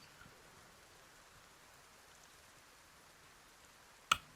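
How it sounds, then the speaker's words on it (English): Soft, steady rain in the video game Project Zomboid patters evenly throughout, ending with one brief sharp click. "In spite of the rain."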